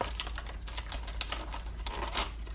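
A knife cuts tomatoes with quick, irregular tapping chops on a board, close and fairly quiet, with no talk.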